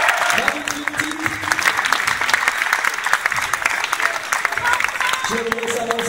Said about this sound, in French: C'est à vous de venir maintenant sous les applaudissements du public du Poney